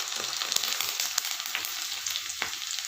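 Curry leaves go into hot oil with mustard seeds, fenugreek and garlic and crackle in a bright, continuous sizzle with small sharp pops, close and fairly quiet, with no voices.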